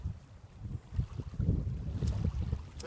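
Gusty wind by the water buffets the microphone with low rumbling bursts, steady and fairly loud, with no voices.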